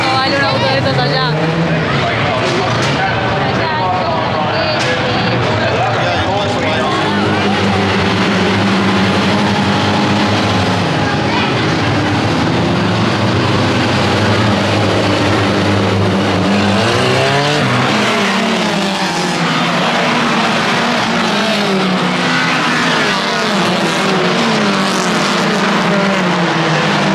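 Modified Mini cars drifting around a race track at a drift event, a loud continuous roar of engines revving and rising and falling with pitch sweeps, tire squeal mixed in, crowd noise and talk underneath throughout.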